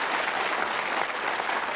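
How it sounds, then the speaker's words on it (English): A studio audience at a TV darts game show applauds a departing contestant, a dense, steady wash of clapping filling the whole stretch at even loudness with no pauses. "Give him a nice warm round of applause"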